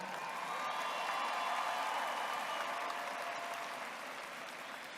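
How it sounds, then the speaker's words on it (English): A crowd at an undergraduate commencement ceremony gives sustained applause, a dense, even wash of clapping that swells slightly and then tapers a little, with no speech over it. "We want to give a round of applause to them."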